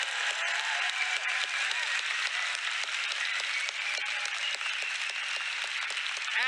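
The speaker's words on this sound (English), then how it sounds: "can we give a round of applause for people working on themselves on January 1st" Audience applause at a Growth Day 2024 event, a continuous roar of many hands clapping at steady volume, with a few faint voice-like sounds mixed in.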